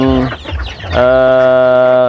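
Chickens on a poultry farm fed on maggots, close and loud, with a few short clucks followed by a long, sustained squawking call.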